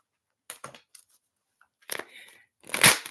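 A deck of tarot cards is shuffled and handled in a few close, crisp bursts of papery riffling and snapping, separated by near silence and ending in a louder flurry.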